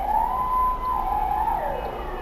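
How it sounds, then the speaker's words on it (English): A police siren wails steadily, rising and falling in pitch, fairly loud and continuous over a low rumbling background. "I'm sorry if you can hear the police siren in the background."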